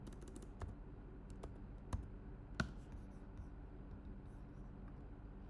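Keys tap on a computer keyboard while a formula is typed into an Excel sheet, a few quiet, close clicks at an uneven pace with long gaps and a soft background hum.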